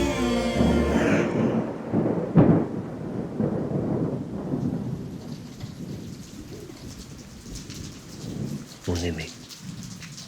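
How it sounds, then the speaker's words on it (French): A short rain shower patters steadily on surfaces with rumbles of thunder, one louder crack near the start, while a voice speaks briefly over the rain. "Aujourd'hui, ici, il y a eu une petite averse, comme un écho à tes larmes rentrées"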